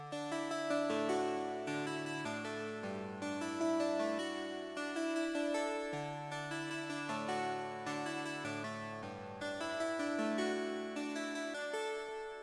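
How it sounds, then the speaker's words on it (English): A plucked acoustic harpsichord-guitar synth patch from Synthmaster plays a steady melodic line, its bright, harmonic-rich notes ringing out clearly and alone at an even, repeating pace. "It's called Pluck Acoustic Harpsy Guitar 1."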